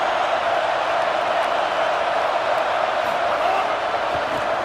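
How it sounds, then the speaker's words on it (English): A steady roar of a large stadium crowd in a college football video game fills the scene, continuous and dense with a faint undertone of cheering, no distinct voices standing out. "This crowd bringing the energy and noise early."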